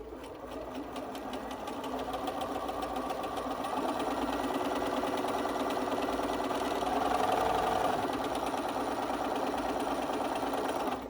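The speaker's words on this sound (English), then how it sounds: "I'm just sewing on the very edge of that folded up hem" A Bernina sewing machine stitches along the folded edge of a face mask hem, a steady, fast mechanical whir that runs continuously and fairly quietly throughout, with no talking.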